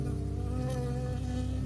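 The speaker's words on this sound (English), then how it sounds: "I got stung by a bee." Buzzing of a bee in the video game Firewatch, a steady droning hum that holds throughout the moment before the sting.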